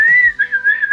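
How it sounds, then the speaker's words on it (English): A steady human whistle holds one clear, sustained tone with slight wavering pitch, loud and close, heard alone without any talk. "Whistle while you work."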